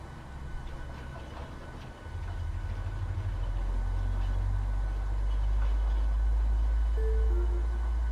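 Boeing 737-800 engine 1 starting in Microsoft Flight Simulator, a low rumble that swells after a couple of seconds into a steady, building drone with a faint rising whine near the end.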